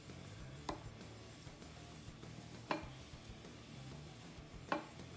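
Three sharp knife chops at steady two-second intervals as beet halves are cut into bite-sized pieces on a board, close and crisp over a faint low kitchen hum.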